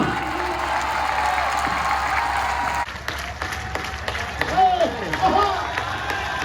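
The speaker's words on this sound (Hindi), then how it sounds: "तालियां" Audience applause at a poet's recital in Prayagraj, a dense steady wash of many hands clapping that thins after a few seconds, with scattered voices calling out over it.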